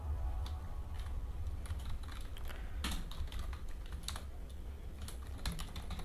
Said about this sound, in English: I am typing the address of our institute